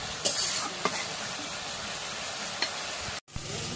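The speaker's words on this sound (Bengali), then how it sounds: "এখন মশলা একটু নাড়া দিই। এখন মশলা একটু কষিয়ে দিই।" Ground garam masala paste stirred and fried in a hot pan, a continuous sizzle with a few scraping spoon strokes and clinks, close up and with no voice.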